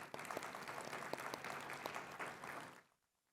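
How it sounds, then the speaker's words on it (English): An audience at a communication appreciation day opening gives a steady round of applause for about three seconds, dense and even, then cuts off abruptly into silence. "let's give a round of applause to all the effort that goes into this and the good work"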